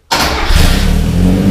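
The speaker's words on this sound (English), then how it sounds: "let's get this exhaust clip out of the way and see what it sounds like" A Mazda B2000 pickup engine with custom headers and a new muffler cranks and fires up abruptly, then settles into a loud, throaty rumble close to the exhaust.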